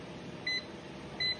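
A multimeter's continuity buzzer on a Panasonic automatic washing machine control board with an H52 error, two short, faint beeps against a low background hum.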